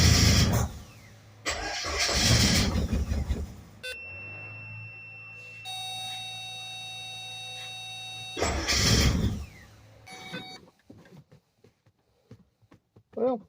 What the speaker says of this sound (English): let me try to start the car up here